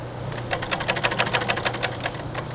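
A 1926 Singer 31-15 industrial sewing machine runs under foot-pedal control with a fast, steady mechanical chatter of needle strokes that rises in speed and then eases off over a low motor hum, close and clear.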